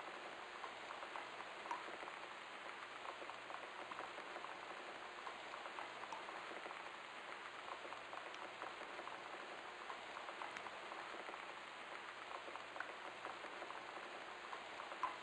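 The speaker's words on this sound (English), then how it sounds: "I don't like scary rain. Calming rain, I love." Rain in the video game Gone Home, a steady, even hiss of falling drops with light pattering, soft and continuous throughout without voices.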